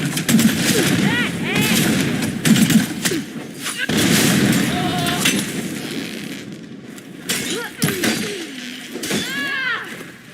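Video game gunfire, loud rapid bursts of shots and booms layered over music and game voices, with some quieter gaps between volleys.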